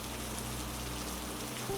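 Steady rain falls in an even, continuous hiss with no breaks, soft and low in level, with no voices or other sounds over it.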